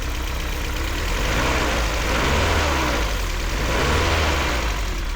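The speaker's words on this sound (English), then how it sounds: "Well, it doesn't sound great, but it does run." A BMW E36 engine runs steadily at close range, a low rumbling drone with a faint uneven pulse, slightly rising in revs at moments, with no voices.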